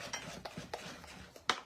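Butter being stirred into a pot of beans on a home kitchen stove, heard as a few soft scraping strokes and light clinks of a utensil against the pot, fairly quiet.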